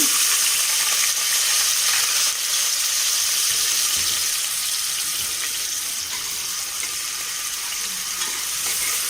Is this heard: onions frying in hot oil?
yes